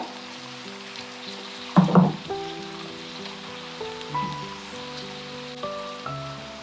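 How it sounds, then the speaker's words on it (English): Chopped onions sizzling in a pan for an East Indian chicken curry, a soft steady crackle with a louder burst of frying early on over faint background music. "First we have to fry these till they are golden brown"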